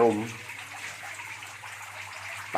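Water gushes from a shower-style spout opened in a swiftlet bird house, a soft, steady hiss of flow that stays fairly faint; someone speaks briefly at the start and end.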